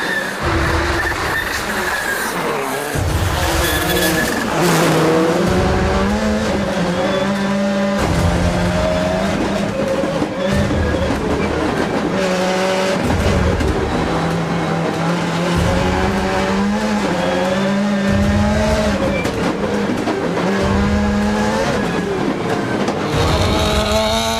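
Subaru WRC rally car driven hard at speed, its engine loud and close, revving and shifting in repeated surges with brief lifts and some tyre noise, and no talk over it.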